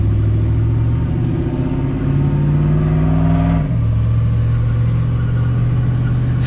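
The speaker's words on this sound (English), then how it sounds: "So right now we're testing out the new truck." A truck's engine on a test drive, a loud close drone that rises in pitch, drops at a gear change and then holds steady, with no talk.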